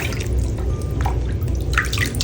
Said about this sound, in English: So now I'm going to dunk her in the warm water.